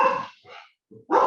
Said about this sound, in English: Now your dog's cheering for Harbor WildWatch.